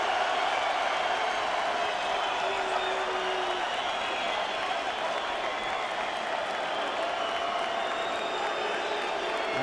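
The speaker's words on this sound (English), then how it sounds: "And getting great support from the crowd." A boxing arena crowd at the Chris Byrd vs Andrew Golota fight applauds and cheers in a steady, dense roar that holds without a break.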